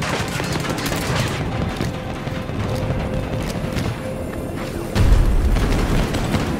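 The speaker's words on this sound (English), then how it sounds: "Russian grenade!" A Russian grenade booms in Battlefield 2042 amid ongoing battle gunfire and rumbling, with a heavy low-end blast near the end over constant distant shooting.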